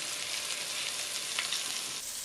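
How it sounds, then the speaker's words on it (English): Brisket sears in a pot, giving a steady, dense sizzle heard up close and alone, with no voices over it. "So you should really be able to hear that sizzle and"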